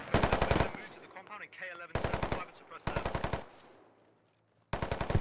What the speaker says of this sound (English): Russians firing at range here.